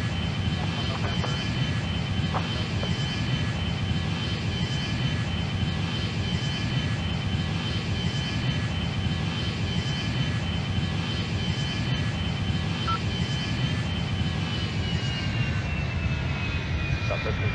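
A simulated Airbus A310 roars through its take-off in the Airline Commander flight game, a steady, loud, unbroken jet-engine drone that holds at full power from start to finish.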